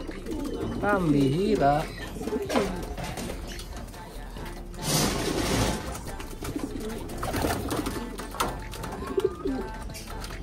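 Pigeons cooing and scuffling in a loft as they fight, close and fairly loud, with throaty repeated coos and flapping bursts while someone talks over them.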